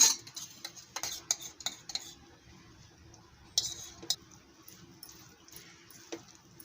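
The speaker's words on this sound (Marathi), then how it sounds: "एकजीव करून घ्यायचं" Someone stirs mohanthal mixture after sugar syrup has been added, making quiet, irregular scrapes and light clinks of a spoon against the pan.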